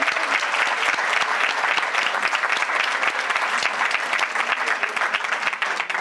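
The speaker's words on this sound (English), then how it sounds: "let's give Sarah one more round of applause" An audience at an annual women's event applauds warmly, dense steady clapping from a full room sustained throughout, loud and close.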